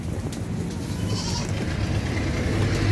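A young goat, about two and a quarter months old, bleats at a busy livestock market amid a steady crowd and low background rumble, its calls blending into the continuous noise.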